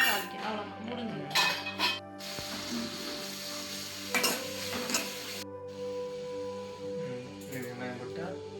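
Spices such as fennel and fenugreek crackle and sizzle in hot oil, with a few metallic clinks of a utensil against the pan and faint voices in the background.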